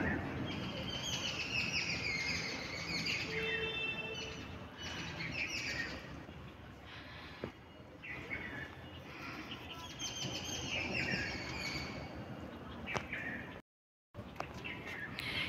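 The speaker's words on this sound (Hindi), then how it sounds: "थोड़ा देर यहीं खड़े होके चिड़िया की वॉइस सुनती हूँ" Morning birdsong near potted garden plants, with repeated chirps and tweets at moderate distance over a continuous low background hum.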